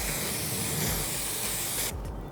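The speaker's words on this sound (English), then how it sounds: "We're just going to glue it on with the same spray glue that we used before." A steady aerosol hiss of spray glue used while reupholstering a dining seat, about two seconds, close and loud, then cutting off abruptly.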